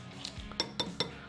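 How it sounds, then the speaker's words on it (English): A metal spoon scrapes and taps sour cream from a container in a kitchen, three quick close clinks in a brief, short burst. "Let me get the spoon to get it all out of here."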